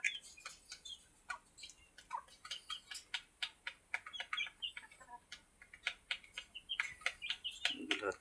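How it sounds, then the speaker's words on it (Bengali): Desi native roosters and hens in a backyard coop cluck and peck steadily, a busy patter of soft, short sounds at moderate distance, with no talking. "এগুলো হচ্ছে আমার দেশি মোরগ মুরগি"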